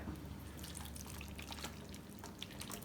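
Liquid marinade poured over chunks of beef for a smoked Mexican dish, a steady close splashing pour with faint drips running for the whole stretch, no talk over it.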